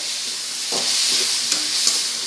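Green and dried red chillies fry in hot oil with a loud, continuous sizzle and hiss, broken by a few sharp spits and crackles as they are stirred; no voices.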